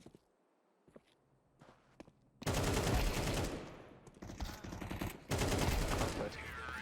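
AK rifle fire in a first-person shooter game, a few soft footsteps and clicks followed by loud, dense bursts of automatic gunfire with short breaks between volleys.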